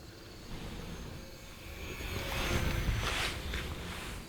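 A budget radio-controlled airplane, priced under $100, roars past at full throttle, a steady broadband motor and wind rush that swells louder toward the middle of the pass.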